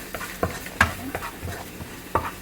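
A pork chop sautés in a pan for a honey garlic dish, sizzling steadily under repeated scraping stirs, about every half second, each a short, close scrape against the pan.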